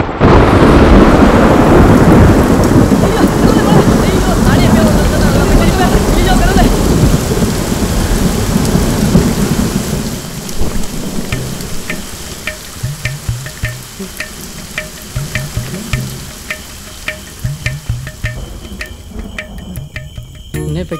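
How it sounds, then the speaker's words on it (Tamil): A rain effect falls over a hill on a film set, a loud, steady downpour roar that thins after about ten seconds into lighter, scattered pattering and dripping. "அப்படியே அந்த மலை மேல மழை பெய்யற மாதிரி ஒரு ரெயின் எஃபெக்ட் போட்டா சூப்பரா இருக்கும்ல?"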